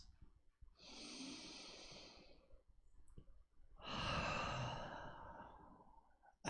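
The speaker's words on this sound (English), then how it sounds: "3 deep breaths." Two long, deep, slow breaths taken during a guided meditation, each a soft airy inhale-exhale lasting over a second, quiet and close with near silence between them.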